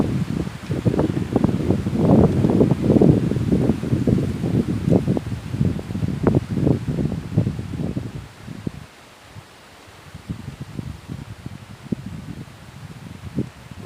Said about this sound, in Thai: ลม ลมแห้งครับ